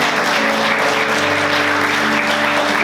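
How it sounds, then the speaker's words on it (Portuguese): Church congregation applauding the Lord during a worship service, steady sustained clapping throughout with sustained musical tones underneath. "Vamos aplaudir o Senhor"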